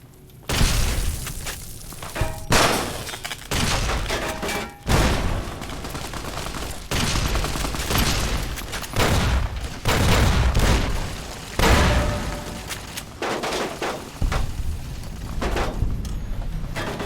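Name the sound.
gunfire in the video game Fallout New Vegas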